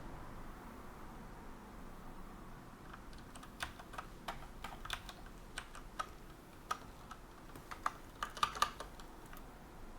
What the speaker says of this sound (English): What am I even typing here?